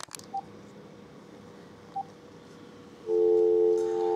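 Telephone dialing tones sound close up: two short single beeps a second and a half apart, then a longer, louder steady tone over faint background hiss.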